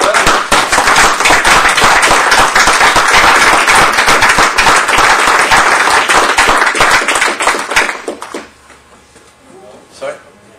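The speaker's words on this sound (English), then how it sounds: "How about a round of applause for our friends at Peddlers?" A town board meeting audience applauds the Peddlers restaurant with loud, dense clapping for several seconds before it stops abruptly, leaving quiet room noise and a brief voice.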